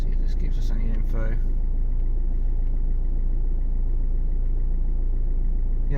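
A 2007 Citroen C3 engine idles as a steady, low, close rumble that holds an even level throughout, with someone talking briefly at the start.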